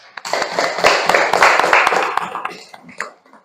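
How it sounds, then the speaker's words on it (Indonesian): A classroom of students claps after a group finishes presenting, a short burst of lively, uneven applause swelling and tapering over about three seconds. "Tepuk tangan."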